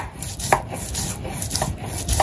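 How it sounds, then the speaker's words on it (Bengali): Onion, garlic and ginger being ground into paste in a village kitchen, a series of sharp, close knocks and scrapes in an uneven rhythm with no voices. "এখন পেঁয়াজ রসুন আদা বেটে নিতেছে"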